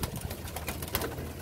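Pigeons coo inside their coop amid a dense, noisy rustle of birds, with soft repeated calls and scattered flutters throughout.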